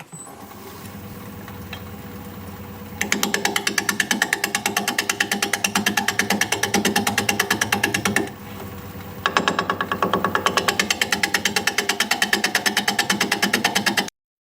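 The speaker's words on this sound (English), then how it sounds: "We're going to be turning at 540 RPM, 5/8 inch bowl gouge, mask and face shield on." A wood lathe spins sycamore at 540 RPM while a 5/8 inch bowl gouge cuts it, giving a loud, rapid, chattering rhythm in two long bursts separated by a brief quieter pause with the lathe still running.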